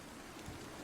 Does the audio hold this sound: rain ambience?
yes